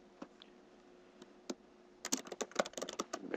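A computer keyboard typing a folder name, starting with a few sparse key taps and then a quick close run of crisp clicks, ending in a louder tap, with no talking.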